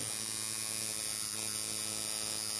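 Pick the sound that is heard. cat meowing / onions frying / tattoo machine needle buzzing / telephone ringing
tattoo machine needle buzzing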